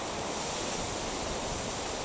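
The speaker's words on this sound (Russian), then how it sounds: "ветер очень сильный" Strong wind roars steadily by the Pra River, a dense broadband rush that stays loud and unbroken throughout.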